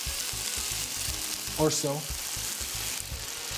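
Canadian bacon sizzles loudly in a pan after a couple teaspoons of premium Wisconsin-made vodka are added, giving a constant close frying hiss with a soft rhythmic crackle underneath; a voice briefly speaks over it.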